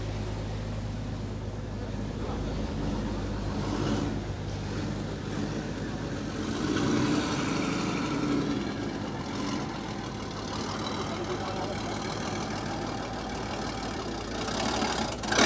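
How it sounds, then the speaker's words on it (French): A Sherman Firefly tank engine idles nearby with a steady, deep mechanical rumble that swells slightly midway, while people talk faintly in the background. "Attendez, ils vont le démarrer. Mesdames et messieurs, démarrage."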